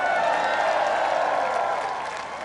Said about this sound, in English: you can clap for him, man